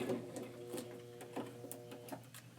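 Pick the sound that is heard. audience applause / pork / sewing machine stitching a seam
sewing machine stitching a seam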